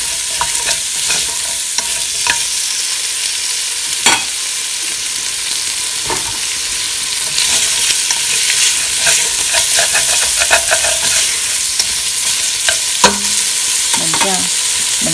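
Pieces of meat in a pot after coconut water has been poured in, giving a steady simmering, sizzling bubble with occasional stirring clinks and scrapes, close and fairly loud, with no talking.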